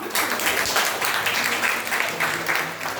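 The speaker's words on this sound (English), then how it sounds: "And the clapping should not stop." An audience claps for the winners at a teacher training session, a steady dense patter of many hands close by that carries on for the full length without a break.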